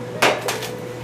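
A holiday turkey is set down into a roasting pan, giving two or three quick, close knocks and clatters of metal cookware with a brief rustle between them.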